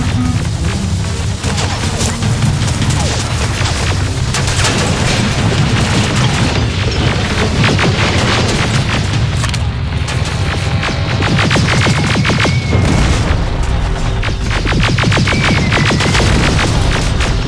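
Grenade explosions amid heavy gunfire in the video game Terminator Resistance, a dense, continuous barrage of booms and crashes with throbbing low rumble throughout, loud and close.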